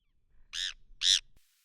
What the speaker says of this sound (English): Stunning photo or video, real bird call.